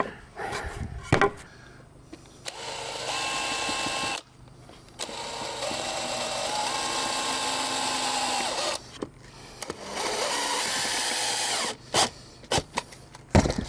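A power drill driving self-drilling screws into deck boards, several long whirring runs broken by short pauses and sharp knocks, loud and close, with no talk.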